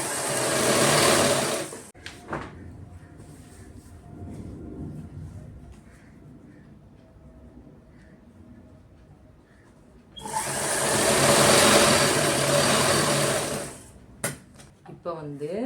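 A sewing machine stitches a fall onto a saree in two loud, steady whirring bursts at the start and end, with a quieter stretch of handling noise between them.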